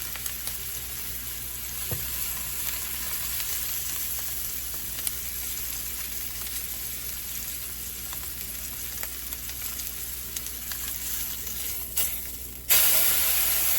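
Venison backstrap searing in a hot pan, a steady loud close sizzle and hiss that runs unbroken and alone, with a few faint clicks and a brief surge near the end.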